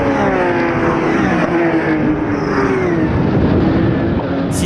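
Race cars, including the number 22 Porsche, lapping Lédenon circuit in France, their engines roaring loud and steady with a sweeping pitch change as they pass in front of spectators.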